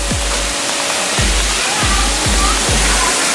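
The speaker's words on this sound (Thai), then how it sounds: "ตัวนี้น่าจะเป็นตรงน้ำตกนะครับผม" Steady rushing water fills the clip, a continuous broad roar from a waterfall at Khum Khun Phaen, Wat Khae, with a few low thumps recurring in the background.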